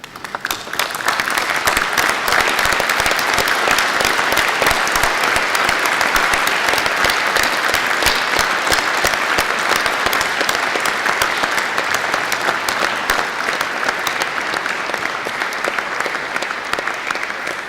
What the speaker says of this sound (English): join me in a round of applause to say thank you to those who've helped you achieve this award